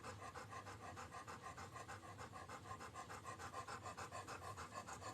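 A dog pants close by, rapid rhythmic breaths repeating steadily and quietly, alone for several seconds.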